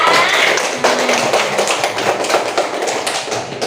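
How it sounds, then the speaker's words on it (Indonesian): A classroom of students claps for a group during a lesson, a brief, fairly loud run of scattered hand claps and taps close by, with faint voices underneath. "tepuk tangan untuk kelompok A"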